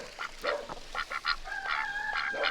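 A white duck calls outdoors, a series of nasal honking quacks in short bursts with a couple of longer drawn-out calls, fairly close and clear with no talking.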